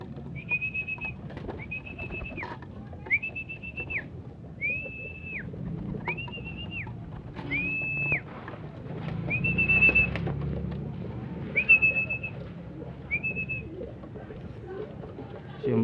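Club racing pigeons at a loft, with a repeated series of about nine short clear whistle-like calls at steady intervals over low background noise and faint activity.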